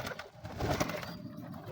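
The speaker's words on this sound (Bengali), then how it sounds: "এইখানে কবুতর বাচ্চা নিয়ে বসে আছে" A pigeon sitting with its chicks gives soft, low cooing in a short burst, close and fairly quiet against faint background hiss.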